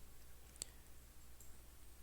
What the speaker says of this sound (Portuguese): Cliquei duas vezes no resistor